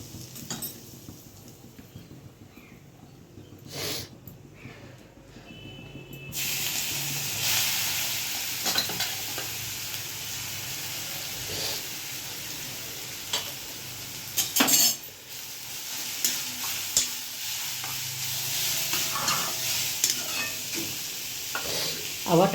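Cumin seeds and asafoetida sizzle steadily in hot oil as a spoon stirs the pan, with occasional clinks of metal on the pan and a brief faint voice; the frying noise grows louder partway through.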